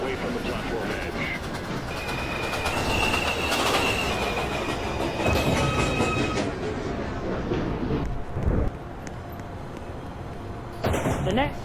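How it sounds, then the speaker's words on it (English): A subway train on an express line in Brooklyn pulls into a station, its loud rumble and clattering wheels filling the platform, with steady whining tones and squeals rising over the noise before it eases to a stop and brakes hiss near the end. "train, approaching the station"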